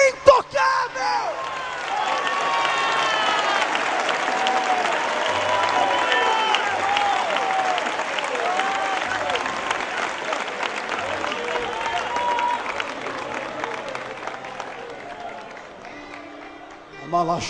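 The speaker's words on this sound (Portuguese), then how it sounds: "uma salva de palmas para Jesus" A church congregation applauds for a sustained stretch, with loud continuous clapping, scattered whoops and cheers, and voices mixed in before the applause fades out.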